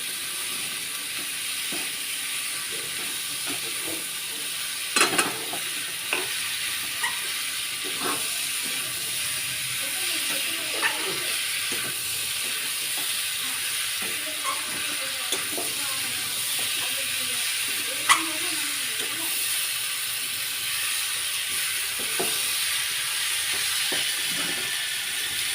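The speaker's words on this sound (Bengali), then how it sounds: "এরপরে চানাগুলো দিয়ে দিচ্ছে। এটাকে এবারে ভালো করে কষিয়ে নেবে।" Chickpeas fry and sizzle in a thick spice masala, a steady close hiss with scattered scrapes and clinks from stirring, no voices.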